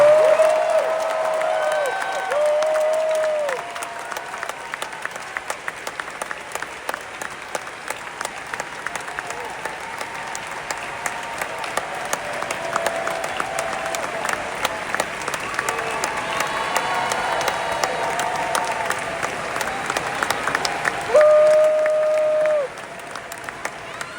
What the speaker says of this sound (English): give a big round of applause to the good folks from Tron Aries